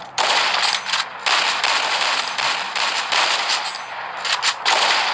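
Sustained loud bursts of automatic gunfire ring out in a shooting video game, rapid rattling volleys with brief gaps between them and no talking.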